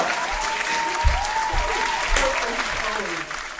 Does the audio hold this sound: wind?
no